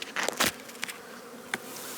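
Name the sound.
honey bees buzzing during a hive inspection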